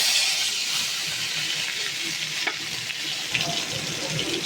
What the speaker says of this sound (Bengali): কড়াইয়ের অবশিষ্ট তেলে বাটা মশলা যোগ করছি